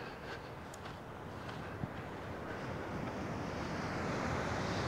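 Sea waves washing onto a beach just after sunset, a continuous broad roar of surf building slightly louder toward the end, with wind buffeting the microphone and no voices.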